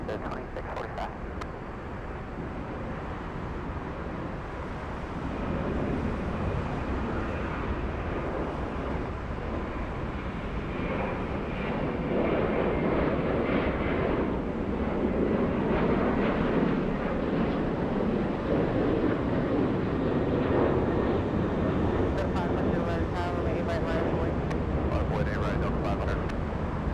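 A jet airliner takes off from a runway at Atlanta's Hartsfield-Jackson airport, a broad distant engine roar swelling steadily with wind buffeting the microphone.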